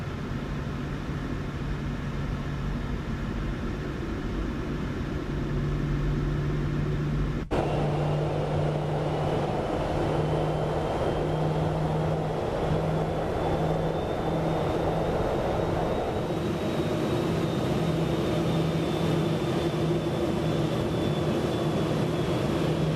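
Simulated Boeing 737-800 airliner in Microsoft Flight Simulator 2024, a PMDG model in Southwest livery, giving a steady engine drone with a low hum and a rising whine that holds throughout.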